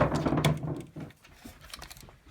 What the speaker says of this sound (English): That noise you hear is my dog playing with a bone upstairs.